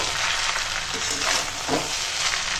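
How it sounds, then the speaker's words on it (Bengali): Pulao being gently stirred in a pan, a continuous soft sizzle with faint scraping and shuffling of rice, steady and close with no talking. "এবার হালকা হাতে নেড়ে নেব।"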